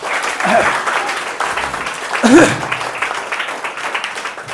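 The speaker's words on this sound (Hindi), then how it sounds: "कुछ लोग ताली बजाने के लिए तैयार बैठे हैं। हाँ तो बजा ही लीजिए" Students in a classroom clap together for a few seconds, the applause swelling and fading, with a teacher's voice briefly heard over it.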